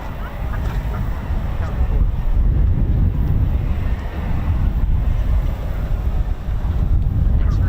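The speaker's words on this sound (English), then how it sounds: "It's very, very windy today" Strong wind buffets an outdoor microphone beside an RAF air station, a loud, low rumble that rises and falls in constant gusts from start to end.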